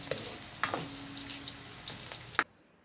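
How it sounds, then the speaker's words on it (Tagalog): Garlic and onion sautéing in hot cooking oil, a soft close sizzle with scattered stirring clinks and scrapes, fading to near silence at the end. "Linagay ko na ang bawang, igisa lang, sibuyas, yan ang mga aromatics natin."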